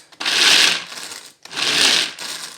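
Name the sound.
Extra Chef manual food chopper being worked by arm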